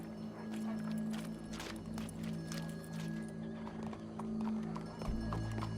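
Horse hooves clip-clop in a steady run of footfalls in Red Dead Redemption 2, joined by a brief whinny, over a constant low musical drone.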